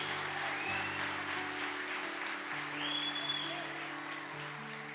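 A church congregation applauds Jesus during a worship service, a steady wash of clapping from many hands held at an even level for several seconds, with sustained musical tones underneath.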